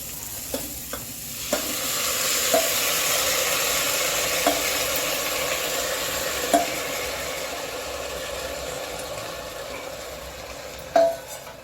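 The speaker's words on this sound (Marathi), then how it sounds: "आता यामध्ये मी हा जो तांदूळ घेतलेला आहे तो घालते" Rice stirred into a hot pan with black masala and ivy gourd for tondli bhaat: a steady broadband sizzle runs throughout, broken by several sharp scrapes and taps of the spoon against the pan, louder near the end.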